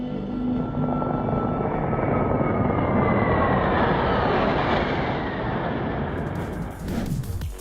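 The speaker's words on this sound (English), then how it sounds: "Switzerland can impress not only with its watches and cheese, but also with such spectacular fighter jet shows." Fighter jets at a Swiss air show roar loudly and continuously, a broad engine rumble and whine that swells and sweeps in pitch as the aircraft pass, ending with a sharp shift near the close.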